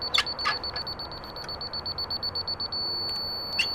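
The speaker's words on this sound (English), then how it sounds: "I'm not hearing a solid beep. It's a fast beep, which means that I'm high" A laser level receiver gives rapid, evenly spaced electronic beeps in a steady fast pulse, high-pitched and moderately loud, signalling it sits too high, with a couple of brief chirps at the start and end.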